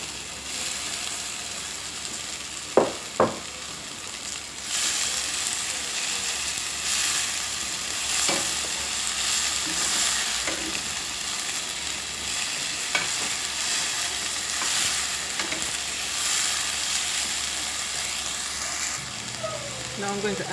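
Sweet pepper frying in a pan and being stirred, a loud dense sizzle with intermittent scraping and clacking of the spoon against the pan.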